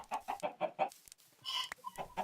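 Chickens in the video game Minecraft cluck in a quick series of short, close, fairly loud calls, then pause before a few more scattered clucks follow.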